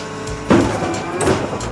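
A mud pump cylinder is stroked to bring the rod up for mud cup and piston cup service: a steady mechanical hum with two short rising whines, loud and near, with no voices.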